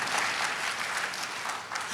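A church congregation applauds during a sermon, a short burst of close, dense clapping lasting about two seconds, with voices faintly mixed in.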